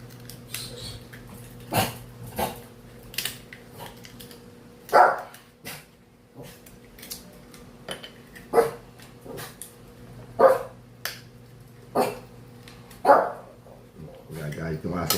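A dog barks in scattered single yips and woofs over about fifteen seconds, fairly close, with someone talking intermittently in between and a low steady hum underneath.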